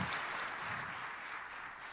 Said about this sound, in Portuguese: Você pode aplaudir de novo esse Deus maravilhoso, pela vida dos nossos líderes.